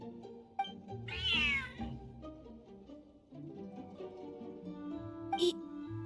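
A cat meows in a video game, a drawn-out wavering cry followed later by a second short, sharp meow, both close and fairly clear over quiet game sounds.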